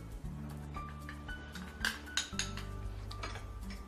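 A spoon stirs custard powder into cold milk in a bowl, a run of close clinks and scrapes against the bowl's sides in an irregular rhythm, with no talking.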